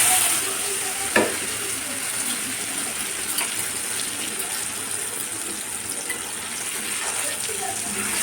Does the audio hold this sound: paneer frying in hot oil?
yes